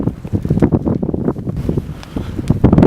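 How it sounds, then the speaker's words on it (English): Strong wind buffets the microphone on a hilltop, loud gusty rumbling in uneven bursts that continues without pause throughout. "It's probably going to be very windy"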